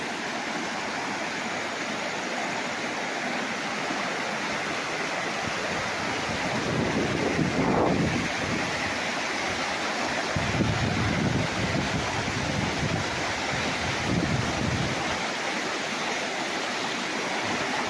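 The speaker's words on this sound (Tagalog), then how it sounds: "Lagaslas ng tubig." Steady rushing of a river flowing past a farm lot in Liliw, Laguna fills the whole stretch, loud and continuous, swelling briefly in the middle with some wind buffeting.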